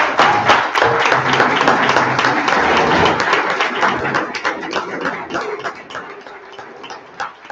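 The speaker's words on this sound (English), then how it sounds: "we need to give a tremendous round of applause, obviously, to this man here for saving lives" Sustained audience applause at a medical freedom gathering, with dense clapping from many hands filling the room and a few voices mixed in, holding strong before gradually thinning and fading toward the end.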